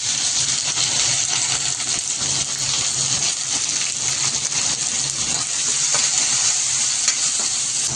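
Tomato added to frying onion, cumin, mustard seeds and curry leaves in oil for a Mumbai-style usal, a loud continuous hiss and crackle with occasional stirring scrapes, close and unbroken by speech.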